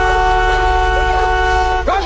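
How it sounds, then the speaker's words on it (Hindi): Car horn blaring in a deserted spot, one long sustained tone held steadily and loud, with a brief shift in pitch near the end. "डर के मारे लड़की जल्दी से कार का हॉर्न बजाती है ताकि बाहर के आदमी को डराकर भगा सके"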